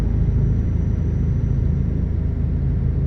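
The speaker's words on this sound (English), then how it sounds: "The echo of the truck." Low, steady exhaust rumble from a heavy truck in Euro Truck Simulator 2 on twisty Norwegian roads, droning continuously at moderate volume with a faint echoing quality and no talk.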